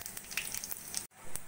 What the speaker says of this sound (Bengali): কড়াইতে অল্প করে তেল দিয়ে দিয়েছি। দিয়ে দেবো জিরে ফোড়ন